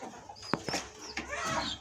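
A large chicken on a farm gives a few short, sharp clucks over a noisy, busy background, fairly close.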